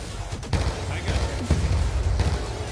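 Several sharp gunshots crack in quick succession over a low rumbling background, from Black Ops 2, with a voice faintly present.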